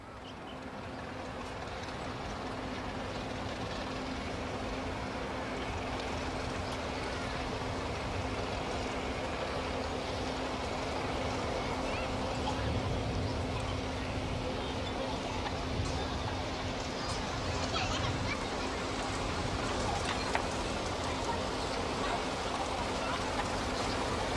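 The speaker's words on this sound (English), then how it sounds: "The sound of dump trucks" Dump trucks rumble at the Smoky Mountain garbage dump in Manila, a low engine drone that holds steady under a general wash of noise, sounding at middle distance and continuous for the whole stretch.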